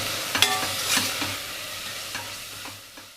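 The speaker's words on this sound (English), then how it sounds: "Allow the masalas to saute for about a minute so that the raw flavor diminish" Ground biryani masala sautés in a pressure cooker with a low steady sizzle, broken by a few sharp spoon scrapes and stirs near the start before settling into soft frying.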